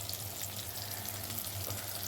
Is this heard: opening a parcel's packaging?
no